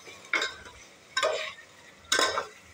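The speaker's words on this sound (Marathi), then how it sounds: "पाच मिनिटं मटण वाफरलं की झाकण काढून पुन्हा परतून घ्यायचं।" Mutton being stirred in a pan while cooking for a rassa curry, three separate scraping, sizzling strokes roughly a second apart, close and fairly loud with no voices.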